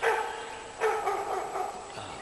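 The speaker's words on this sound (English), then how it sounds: "It's a neighbor's dog through the woods over there." A neighbour's dog barks from across the woods, a few muffled barks at a distance, faint against outdoor background noise.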